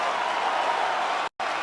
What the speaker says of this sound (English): standing ovation from this capacity crowd